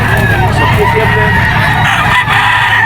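Red Kelso yellow-legged bull stag rooster crowing at a busy pet market, the crow rising over a steady din of crowd noise and other birds.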